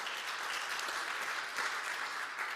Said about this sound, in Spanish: Un fuerte aplauso, de verdad